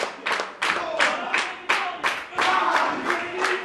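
A wrestling crowd at a tag-team match claps in loud, rhythmic unison, each sharp burst of claps landing in a steady chant-like beat close by, with cheering mixed in.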